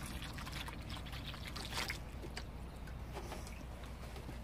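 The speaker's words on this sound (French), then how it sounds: "sans oublier, la première fois, de bien arroser. Et vraiment très bien arrosé." Water pours steadily onto the soil around newly planted tomato plants, a continuous close trickle and splash with a brief heavier gush midway, no talking.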